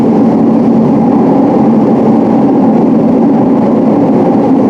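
Close and unbroken, a London train near Whitechapel gives off a heavy, even low-frequency rumble and engine drone with no talking over it.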